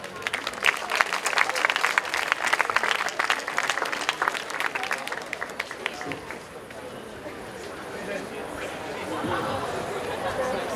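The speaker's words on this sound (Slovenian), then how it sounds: "En aplavz za Lejo in Jeno" Audience at a show applauds for two performers, dense fast clapping for the first six seconds that thins into a murmuring crowd, with chatter rising as the clapping fades.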